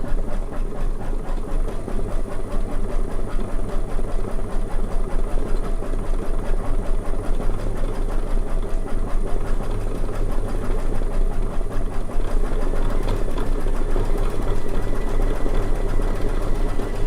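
A sewing machine stitches a quilt in one long continuous run, a loud steady whirring hum that holds without a break from start to finish.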